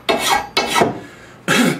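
Three close rasping file strokes scrape along the steel edge of a trapping tool during sharpening, the first two in quick succession and the third after a short pause.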